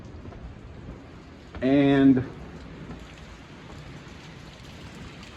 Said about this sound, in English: the rain has started for the next 3 days